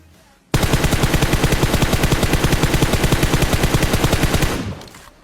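Automatic rifle spray in the video game PUBG, a single long burst of rapid, evenly spaced shots starting abruptly, loud and close, then tailing off.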